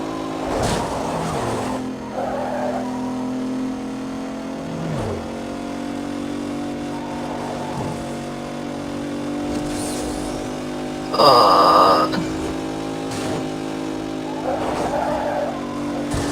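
A racing car in the video game Need for Speed Most Wanted skids through a turn, its steady engine drone joined by repeated tire squeals and one louder screeching slide midway, all close and continuous.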